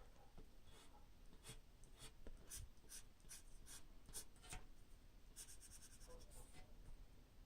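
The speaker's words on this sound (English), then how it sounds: "A fountain pen requires you to write at a very specific angle." Fountain pen nib scratching across paper in soft, quick strokes, a close, quiet series of short scritches in uneven rhythm with brief pauses between letters.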